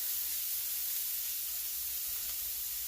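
Drained canned corn toasting in a frying pan with onion and garlic gives a steady, soft sizzling hiss that stays even and low throughout, with no voices.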